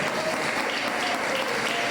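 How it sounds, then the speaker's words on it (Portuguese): Congregation applauding steadily at a church service, a dense, even wash of clapping from a crowd filling the whole moment without pause. "aplauda Jesus no nome dele"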